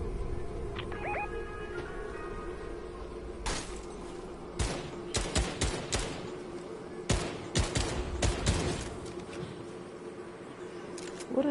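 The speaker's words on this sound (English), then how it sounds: "I see them boys shooting" Gunshots fired outdoors in bursts, a series of sharp cracks in clusters over a steady background hum, moderately near, with faint voices in the scene.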